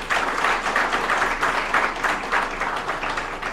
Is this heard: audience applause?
yes